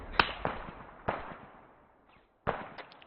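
Grenades going off during a field training exercise on a hillside: three or four sharp, cracking bursts spaced a second or so apart, moderately distant and fairly faint, each trailing off quickly.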